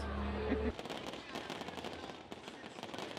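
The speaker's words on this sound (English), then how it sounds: "The night capped off with magical fireworks" Fireworks burst at a university homecoming night, a rapid run of sharp crackles and pops at moderate distance after a short musical tone, continuing unevenly to the end.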